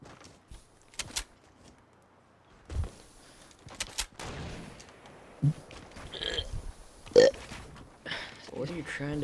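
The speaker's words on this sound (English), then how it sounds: "It's not that you're forcing a burp too hard." A forced burp comes out in bursts amid lively chatter during a Fortnite match on Xbox, short guttural belches rising over voices and game noise.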